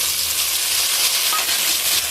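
Vegetable stalks fry in a pan for a vegetarian dish, giving off a steady, close, even sizzle with no talking.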